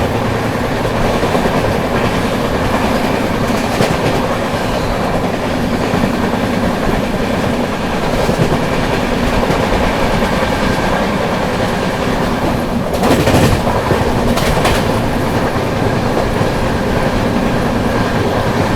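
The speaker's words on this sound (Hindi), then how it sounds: "दोस्तों ट्रेन अपनी जो है खुर्जा जंक्शन स्किप करने जा रही है।" A Subedarganj–New Delhi special passenger train runs through Khurja Junction without stopping, heard from on board as a dense, continuous rumble of wheels and carriages with rhythmic clatter and a brief louder burst near the end.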